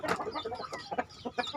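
Clucking from young chickens kept at a small home poultry farm: a brief cluster of short, nearby clucks and soft chirpy calls in an uneven rhythm, with nobody speaking.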